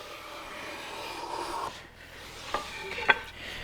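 A hand plane pushed across a wooden board held on a shooting board gives a long, soft rasping shave, followed by a few short scrapes and a sharp click, close and quiet with no talk.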